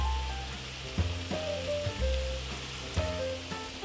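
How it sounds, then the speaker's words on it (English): Rice toasting in oil in a pan gives a steady soft sizzle, with a few louder clinks and knocks at regular intervals, heard alone and up close. "We want to toast the rice just a touch, not too much, but just sweat it out in that oil."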